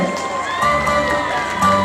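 A crowd cheers and shouts at an outdoor Ghost Festival concert at Zhongli Renhai Temple, with a busy wash of voices that swells twice over a low steady rumble from the stage.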